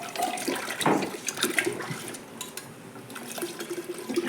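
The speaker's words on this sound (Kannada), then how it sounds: "ನಮ್ಗೆ ಎಷ್ಟು ನೀರು ಬೇಕು ಅಷ್ಟು ನೀರು ಹಾಕ್ಯಬೇಕು ನೋಡ್ರಿ." Water pours and splashes into a container while a neem drink is made for the Ugadi festival, a continuous rushing, gurgling flow with small drips, close and fairly loud, with no talk.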